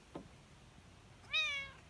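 A cat on a home deck gives a short, clear meow near the end, close and fairly quiet, after a faint small sound earlier in the quiet stretch.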